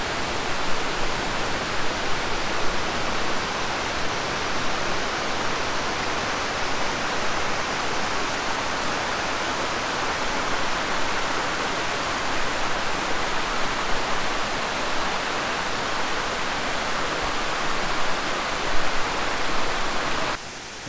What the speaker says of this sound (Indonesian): akhirnya kita berada di puncak air terjun Salopa